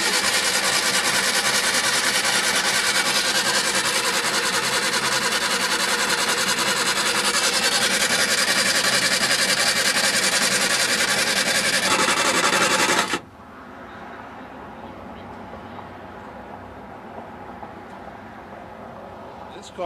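An engine cranked over and left idling, running loud and steady for about thirteen seconds before cutting off abruptly to a quieter background; speech is tagged in the clip.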